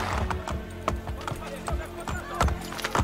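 Hooves of a galloping horse clop in a steady, rapid rhythm in the video game Assassin's Creed Brotherhood, close and clear, with game ambience underneath.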